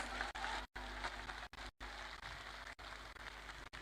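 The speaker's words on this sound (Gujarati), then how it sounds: "જોરદાર તાળીઓ સમાજ માટે થઈ જાય" Applause from a large crowd at a Kshatriya community mass gathering in Rajkot, a steady broadband patter of clapping across the clip, broken by a few brief gaps.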